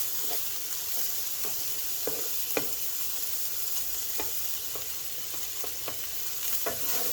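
Bacon, mushrooms, onions and jalapenos sizzle steadily on a flat griddle while a spatula scrapes and taps at intervals, moving the food around, all close and continuous with no voices.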